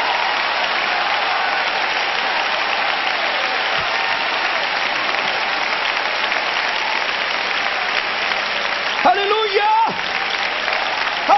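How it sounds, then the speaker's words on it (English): A church congregation applauds steadily and loudly for several seconds, with occasional shouts rising over the clapping near the end. "clap your hands again and shout, every one of you, with a voice of belief"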